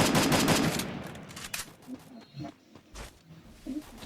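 Gunfire in the Free Fire mobile battle royale game: a dense burst of rapid shots at the start, then scattered single shots and short bursts at moderate loudness. There is no speech.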